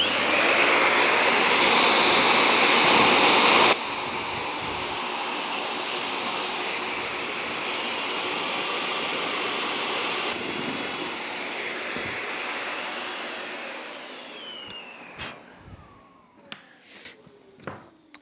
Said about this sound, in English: let's get the vacuum on and start drilling holes.